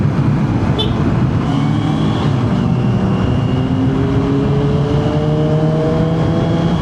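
A motorcycle engine revs up in rising sweeps, moderately loud over steady traffic-like background noise.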